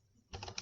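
A brief flurry of keystrokes on a computer keyboard, quick and close, enters a formula after a near-silent pause.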